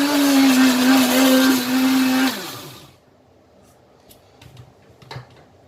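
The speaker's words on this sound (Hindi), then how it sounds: "अभी मैं इसको थोड़ा सा ब्लेंड करूँगी ज़्यादा।" A blender whirs loudly and steadily for about two seconds as it blends a strawberry smoothie, then its motor winds down and stops, leaving quiet room noise with a few faint clicks and knocks.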